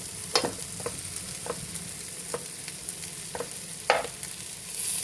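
Stuffed bitter gourd (kakarakaya) frying in two spoons of ghee, with a steady low sizzle broken by several sharp scraping stirs of a spoon in the pan, close and fairly quiet, no talking.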